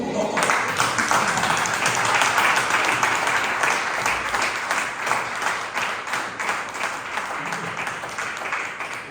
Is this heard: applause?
yes